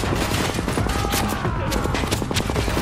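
Rapid machine gun fire rattles continuously at close range in the shooter game The Division, dense overlapping shots mixed with other battle noise and no break in the barrage.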